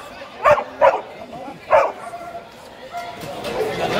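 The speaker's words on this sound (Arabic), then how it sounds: "حط ايدك على الكلب وهو بيهوهو" A pit bull barks three times at an outdoor dog market, sharp loud woofs in the first two seconds, followed by background crowd chatter.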